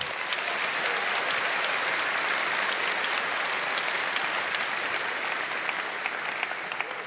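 Sustained, dense applause from a large audience at a university convocation, steady and loud throughout with no break.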